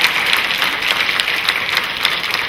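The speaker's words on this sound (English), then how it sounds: "Give them another round of applause." An audience at a high school symphonic band winter concert claps steadily, a dense, loud, even round of applause with no speech over it.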